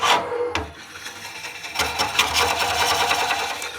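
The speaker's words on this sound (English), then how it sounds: "Advance the cutter nice and slowly. You don't want to force this through the wood." Woodcut Bowlsaver Max 4 cutter slowly advancing through a wood bowl blank, a steady close rasping, grinding whir with a sharp scrape near the start, continuous and fairly loud with no talking.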